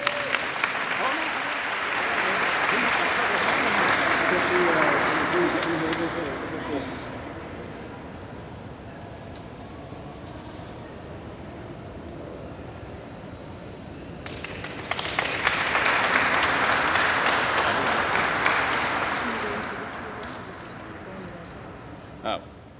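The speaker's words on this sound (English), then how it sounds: "Let's give them all a big round of applause" Applause from an audience at a 9-1-1 heroes awards ceremony, two sustained bursts of dense clapping separated by quieter stretches with a voice over the hall.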